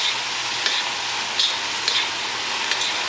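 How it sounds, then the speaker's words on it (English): Mee goreng noodles and prawns frying in stock in a pan give a steady close sizzle, with a few soft stirring scrapes at intervals. "So now the stock will be absorbed in, and the prawn is going to be cooked in the noodle."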